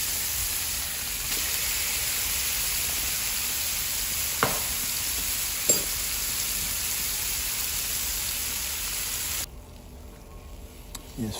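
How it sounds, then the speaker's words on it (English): Salmon fillets sizzle and hiss steadily in a frying pan, a continuous crackling fry with a couple of faint clinks, before the sizzle drops noticeably quieter near the end. "Salmon needs to cook for about 8 minutes, 5 to 8 minutes on each side"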